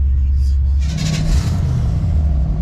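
Car accelerating as it merges onto an interstate, a loud low engine rumble that rises briefly from the cabin, with wind and road noise and a voice talking over it.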